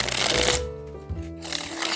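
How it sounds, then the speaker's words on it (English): A deck of cards for a board game riffled and shuffled at close range, a dense papery burst followed by softer rustling and settling, heard alone with faint background tone. "you simply shuffle the deck"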